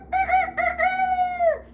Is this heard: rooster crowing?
yes